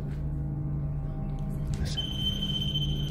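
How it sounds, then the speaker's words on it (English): An alarm sounding inside a mansion at night, a high steady electronic tone that starts abruptly partway through over low background hum. "Hear that alarm?"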